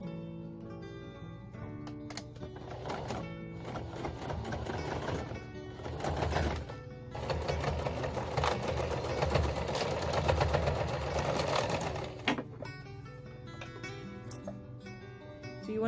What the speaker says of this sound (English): and I'm going to sew them together.